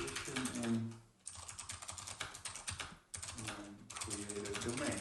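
Rapid keystrokes clatter on a computer keyboard in close, dense bursts, pausing briefly twice, with a voice faintly present at moments.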